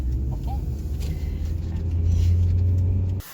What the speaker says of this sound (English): slowly release the clutch and slowly apply the gas this time